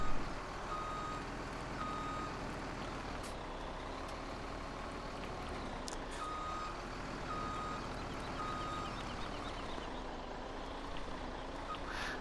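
A truck in the farming game Farming Simulator 17 backs up with its reversing alarm beeping at a steady, regular rhythm over a low idling engine hum, with a couple of short hisses like air brakes, and no voices.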